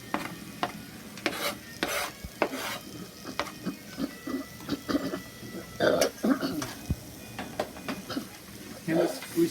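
Roux with added vegetables such as parsley, shallots or green onions sizzles in a pan, with a steady crackle broken by repeated stirring scrapes and clinks of a spoon against the pan.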